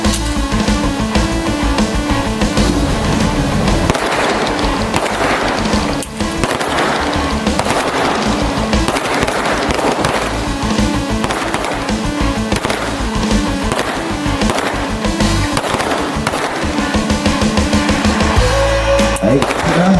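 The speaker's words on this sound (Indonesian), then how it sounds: "Menembak berikan sasaran, berikan. Lakukan untuk pemegangannya dengan benar. Silakan menembak." Police firearms shooting practice at an outdoor range in East Aceh: loud, dense, continuous music with heavy percussive hits fills the whole stretch, so any gunshots merge into the rhythmic bangs rather than standing out as separate reports.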